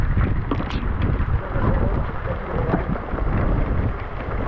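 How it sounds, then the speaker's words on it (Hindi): Rain falls during a motorcycle ride near Gwalior, heard as constant rushing noise mixed with heavy wind buffeting on the microphone, loud and close for the whole stretch. "मैप तो ये है कि बंद हो चुका है क्योंकि बारिश हो रही है"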